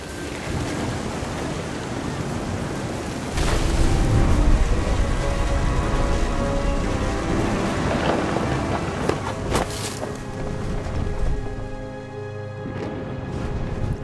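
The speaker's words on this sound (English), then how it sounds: "Thunder sounded much too close and full of angry power." Stormy weather in the video game What Remains of Edith Finch: a steady wash of rain and wind, with a louder surge and rumbling low swell midway and scattered sharper crackles near the end.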